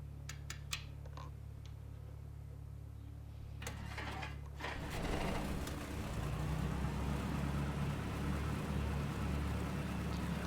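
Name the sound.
Cessna 172 propeller engine starting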